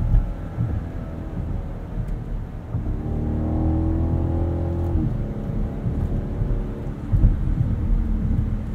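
A 2021 BMW Alpina XB7 with a bi-turbo V8 and 8-speed gearbox accelerates from the driver's seat, its engine note climbing steadily before a gear change, over constant road roar.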